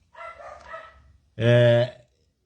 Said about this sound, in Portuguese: Mas estão latindo muito aqui.